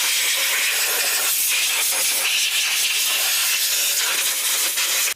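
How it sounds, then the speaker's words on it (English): A loud, continuous hiss of compressed air blasts debris off a Kawasaki Mule engine. It runs unbroken for about five seconds, then cuts off abruptly, with no talking. "I'm going to start by just blowing away any debris that might be in here"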